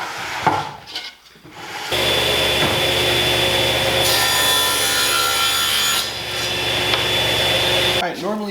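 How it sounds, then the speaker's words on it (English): Quarter-inch plywood backer board being sawn through, a loud, close, steady cutting noise that starts after a couple of seconds of quiet handling and runs continuously for about six seconds before stopping. "the next step is to cut a backer board to size, about a 1/4 inch plywood here"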